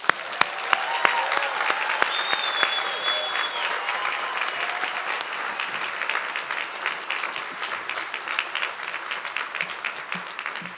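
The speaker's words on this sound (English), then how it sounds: "Please join me in honoring them with a tremendous round of applause." Sustained, dense round of applause from a large audience at a law school commencement ceremony, steady and full for about ten seconds with no talk over it.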